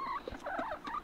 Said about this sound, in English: I think Henry is fighting again. Henry's my rooster